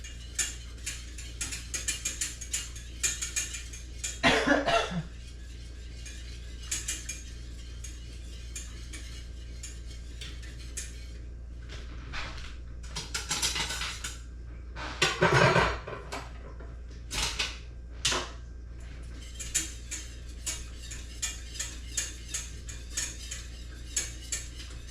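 Gravy being whisked in a pot while making poutine: steady metallic scraping and ticking of a whisk against the pot walls runs throughout, with a few louder bursts of clanking, close and alone with no talk.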